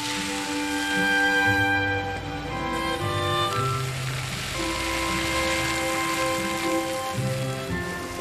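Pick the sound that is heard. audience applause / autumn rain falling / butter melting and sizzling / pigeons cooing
autumn rain falling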